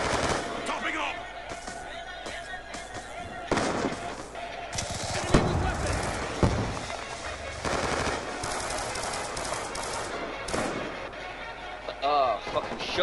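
Shotgun blasts and other gunfire in Black Ops 2 Search and Destroy, with sharp bangs at irregular intervals over a busy game mix, while players talk loudly throughout.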